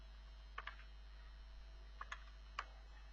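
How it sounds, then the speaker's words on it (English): Someone types quotes and a word on a computer keyboard, a few sparse, light key clicks in small clusters against a quiet room hum, close by and with no talking. "Here I'm just typing"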